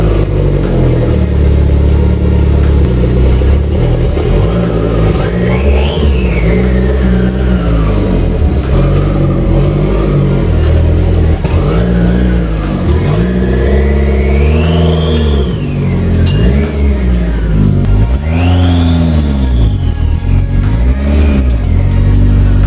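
A turbocharged car engine revs repeatedly, rising and falling in pitch with loud, close surges and a faint turbo whistling whine over the throaty roar.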